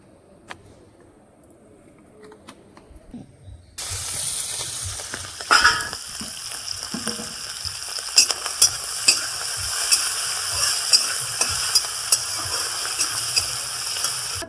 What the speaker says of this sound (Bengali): এইবারে কড়াই তেল দেবো তেল দিয়ে গুগলিটা ভেজে নেব